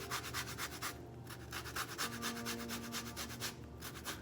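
Orange zest grated off the peel of an orange, a close, steady rhythmic rasping in quick repeated strokes that runs continuously with only brief pauses.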